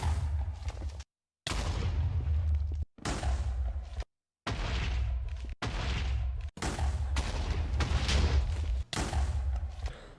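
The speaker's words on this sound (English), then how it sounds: "let's do a quick montage of me destroying the village behind me using some TNT" Blocks of TNT blowing up a village in Minecraft, a string of loud, booming blasts in quick succession, separated by brief cuts of silence.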